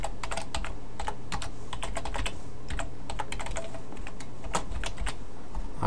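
Rapid typing on a computer keyboard, a dense, continuous stream of close clicking keystrokes with no pauses and no voices.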